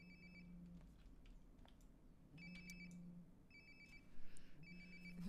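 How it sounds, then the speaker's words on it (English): Phone ringing in the video game Life Is Strange: Before the Storm, a repeating electronic ringtone in regular bursts, faint and somewhat distant over quiet ambience. "Sounds like my phone is definitely nearby."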